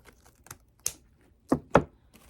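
Scissors snip the ribbon tails of a gift bow: a handful of sharp, dry clicks, two louder cuts close together near the end, with quiet between them.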